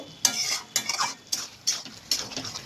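Prawns and Malabar spinach are stir-fried in a pan, with a soft sizzle under five or six sharp, evenly spaced scrapes and clacks of a utensil against the metal.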